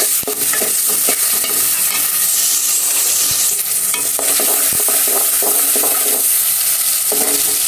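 Onions fry in oil with salt in a pan, a steady loud sizzle with intermittent scraping and stirring clatter throughout, no voices.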